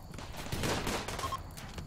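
Gunfire in the colony-building video game Rimworld, a faint, quick scatter of small distant shots crackling over a soft noisy background.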